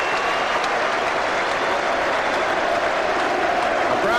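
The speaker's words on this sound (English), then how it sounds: "Applause from the manager for the team that have achieved another victory." Sustained clapping and crowd noise fill a stadium as Nottingham Forest receive the 1990 League Cup after beating Oldham Athletic, a continuous, even roar of applause with no pauses.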